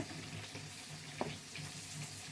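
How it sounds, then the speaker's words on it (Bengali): Rohu fish frying in hot oil, a steady, dense sizzle throughout with one brief sharper crackle midway, fairly faint and close, no voices. "মাছ খুব ভালো করে ভেজে নেব"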